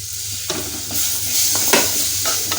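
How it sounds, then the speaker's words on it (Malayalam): Chopped tomatoes hit hot oil with chili powder in a pan, sizzling loudly as a spoon stirs and scrapes them in short close strokes. "തക്കാളി ചേർത്ത് നല്ലപോലെ ഒന്ന് വഴറ്റണം"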